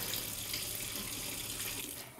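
Cloudy rinse water from washing jasmine rice is poured off into a kitchen sink, making a continuous close, hissing rush of water that stays steady throughout.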